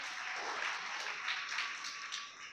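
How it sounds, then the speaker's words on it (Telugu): Church congregation giving a round of applause, a steady wash of many hands clapping at a distance, fairly faint and unbroken for a couple of seconds. "ఒకసారి గట్టిగా చప్పట్లు కొడదాం"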